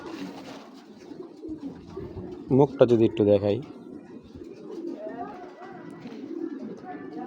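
Racing pigeon, a large-headed python-type bird, gives a short burst of soft cooing mid-clip, close by, between stretches of someone talking.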